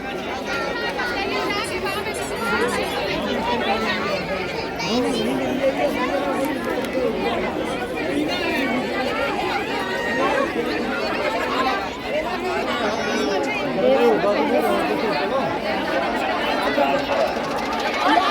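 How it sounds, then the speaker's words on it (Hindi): Devotees crowd the Kaal Bhairav temple in Ujjain, their dense chatter a constant, close hubbub that holds steady throughout, with one voice talking over it. "तो ये देखिए यहाँ पे भीड़ आप लोगों को दिख रही होगी"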